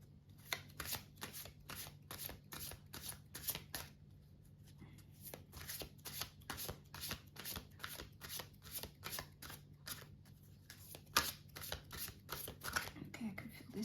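A deck of cards is shuffled repeatedly in quick, rhythmic riffling bursts close up, with a steady low hum underneath and a short pause partway through.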